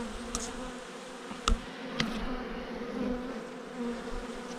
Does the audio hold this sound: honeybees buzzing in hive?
yes